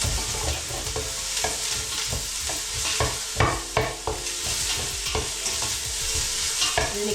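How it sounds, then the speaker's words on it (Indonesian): Chicken wings fry in a pan with a constant crackling sizzle, broken by repeated scrapes and knocks of stirring at an uneven rhythm. Loud and close, with no speech. "Ini kita goreng,"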